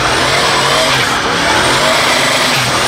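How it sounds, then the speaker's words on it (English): A loud muscle car engine roars and revs continuously, a dense, harsh mechanical growl that stays loud throughout with no voices. "when you drive a really loud muscle car"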